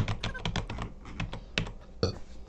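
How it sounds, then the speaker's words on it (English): Keyboard typing from Sims characters in The Sims 4, a quick run of light plastic key clicks, close and fairly loud, with a short pause before a few final taps. "this keyboard that they're using here sounds like a Sounds like a chiclet keyboard"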